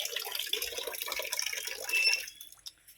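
Tap water runs and splashes steadily into a container, close and fairly loud, then cuts off near the end, leaving a few drips.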